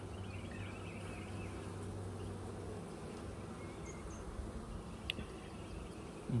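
Honeybees hum steadily around an opened hive during an inspection of the lower box crowded with worker and nurse bees, a continuous close buzzing with brief louder passes near the end.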